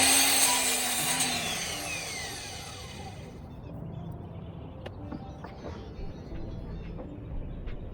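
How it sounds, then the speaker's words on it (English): A power saw that has just cut 2x4 lumber winds down, its whine falling steadily in pitch over about three seconds. Quiet workshop ambience follows, with a few faint knocks. "Using 2x4s, we're going to cut 2 pieces that are 76 inches long and 2 pieces that are 31 inches long."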